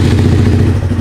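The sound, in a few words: motorcycle engine starting up to warm up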